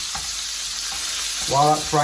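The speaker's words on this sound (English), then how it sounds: "And while that's frying" Chicken for Thai basil stir fry sizzles loudly and continuously in a hot wok, with a couple of soft taps and a brief whirring hum toward the end; no talking.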